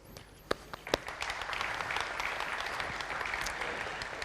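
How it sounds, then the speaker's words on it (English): Applause from a modest audience at a legal innovation event, a steady broadband patter of clapping building after a few sharp isolated claps near the start, moderately distant and sustained without talk. "I can hear applause"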